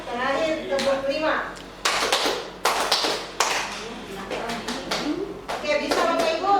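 Sharp hand claps in counted bursts of several quick strikes, close by, alternating with a woman's speech as she leads a group clapping routine in a positive-discipline lesson.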